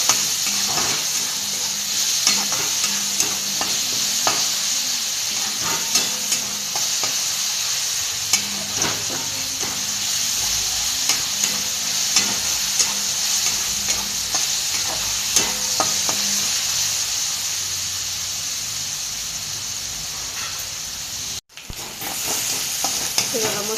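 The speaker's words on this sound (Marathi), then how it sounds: "मस्त असं आपण कांद्याला लाल करून घेऊया।" Onions frying in a pan until browned for dhaba-style whole masoor, a loud continuous sizzle with frequent stirring scrapes and clicks throughout, largely free of talk.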